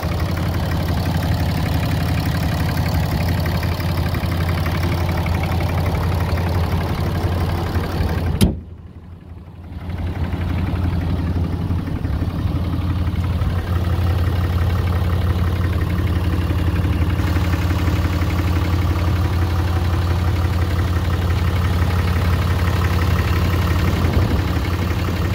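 A 2012 RAM 3500 turbo diesel truck idles with a steady, low, rumbling drone and slight knock, close and continuous, interrupted by one brief dip partway through.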